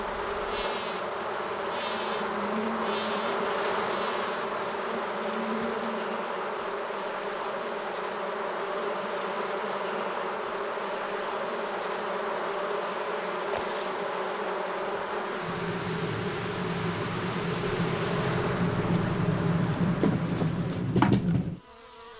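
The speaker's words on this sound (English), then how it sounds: "the roaming swarm has finally found a suitable home, the root of an old tree" A swarm of honey bees hums steadily around the root of an old tree. The dense buzzing drones continuously, swells slightly toward the end, then cuts off abruptly.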